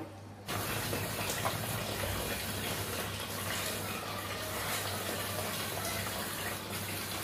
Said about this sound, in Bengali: এটা দিয়ে ছেঁকে নিলাম।